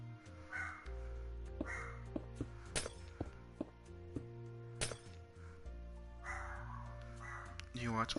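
A pet dog barks in sharp, separate bursts, several spaced barks at moderate distance over background game music while a person talks.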